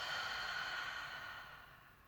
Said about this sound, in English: Exhale fully.